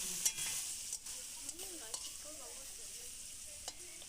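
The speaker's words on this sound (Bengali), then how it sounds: "খুব ভালো করে নেড়ে চেড়িয়ে এটিকে ভেজে নিতে হবে" Chicken curry masala frying in a pan, a steady hiss of sizzling under scattered scrapes and clinks of a spoon stirring, with no talking.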